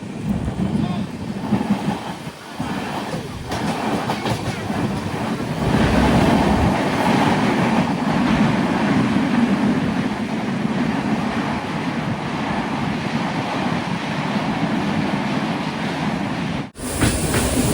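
Sindhudurg Express rumbling along the Konkan Railway during the monsoon, heard from inside a general class coach: a loud, continuous roar of wheels and rushing wind with faint clatter throughout.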